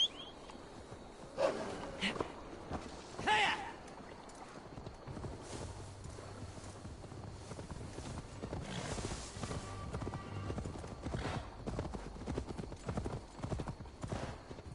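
Horse hooves in the video game Assassin's Creed Valhalla: steady clip-clop of a horse on the move, with a couple of snorts or whinnies early on, moderately loud and mostly free of talk.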